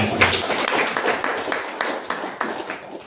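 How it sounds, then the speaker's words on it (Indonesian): Church congregation clapping during a sermon, scattered hand claps that thin out into a few sharp isolated claps, with no talking over them. "Berikan tepuk tangan."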